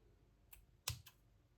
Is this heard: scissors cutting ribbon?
yes